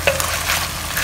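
Pork belly with salted fish, celery, Chinese parsley and spring onion stirred in a clay pot, giving close scraping stir strokes over a steady loud sizzle, with no voices.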